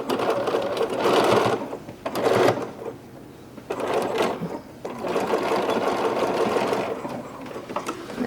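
A sewing machine runs in bursts while stitching over serger thread tails on a garment bag, a close, rapid mechanical whirring that starts and stops several times with short pauses between.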